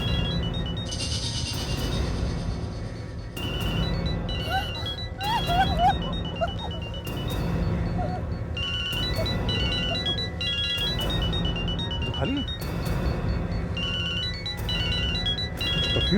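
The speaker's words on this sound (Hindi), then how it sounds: "इसी बैग में से मोबाइल की आवाज आ रही है सर।" A mobile phone rings from inside a bag, a repeating electronic tone pattern in regular bursts over a dense, rumbling background.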